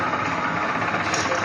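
Electric motors fitted with reduction gearboxes run in a home workshop with a steady, loud, buzzing mechanical hum and a faint rattle. A voice talks over the drone.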